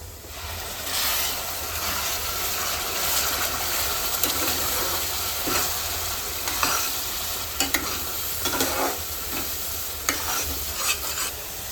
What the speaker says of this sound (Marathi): हे वाटण केलेलं ते टाकायचं आता